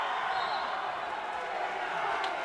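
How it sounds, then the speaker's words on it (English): A packed high school gym crowd at a basketball game between Littlestown and New Oxford roars in a steady, loud wash of noise, with faint court sounds and a commentator's voice beneath. "And you can hear the crowd."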